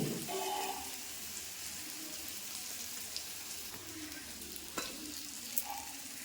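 Green chillies fry in hot oil for a yogurt curry, giving a faint, steady sizzle with a few soft stirring clicks and one brief sharper tap.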